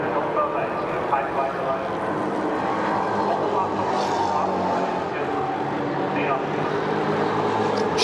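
Onboard a NASCAR Euro Series race car, the engine drones loudly and steadily throughout, with faint shifts in pitch as it changes down through the gears heading into braking, under continuous commentary.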